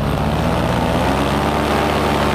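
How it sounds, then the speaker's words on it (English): A paramotor engine and propeller in flight drone loudly and steadily at close range, with no break in the sound. "Really love these paramotors"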